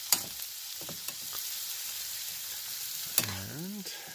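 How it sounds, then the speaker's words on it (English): Noodles fry in butter in a pan inside a campervan, a continuous close sizzle broken by a few sharp scrapes and clacks of a utensil stirring. "So I'm just going to continue to fry this for a little while."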